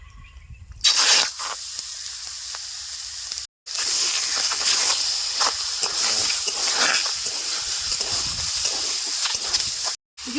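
Loud, steady hiss of meat searing in a hot wok with fried spices, broken by two brief silences, with faint clatter underneath.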